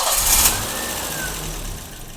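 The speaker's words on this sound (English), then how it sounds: "Let's fire this thing back up and see how it's running with the idle control valve sprayed out." A BMW car with a freshly cleaned idle control valve fires up with a brief loud catch, then settles into a steady low idle hum that continues to the end.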